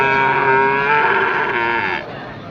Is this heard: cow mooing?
yes